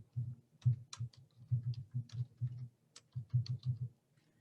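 Typing on a computer keyboard, a quick run of close, distinct key clicks in short bursts with brief pauses.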